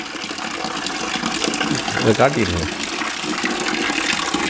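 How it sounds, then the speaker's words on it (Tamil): Tap water from an instant water heater pours steadily into a bucket, a continuous close gush that runs throughout while someone speaks over it. "ஃபஸ்ட்டு தண்ணி திறந்து விட்டு பக்கெட்டில் தண்ணி விழுக ஆரம்பித்த"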